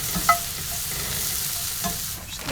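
Seasoned food with cracked pepper and chili powder stirred in a hot pan at a camp stove in a truck camper, a steady sizzle with scraping utensil strokes throughout, close and moderately loud.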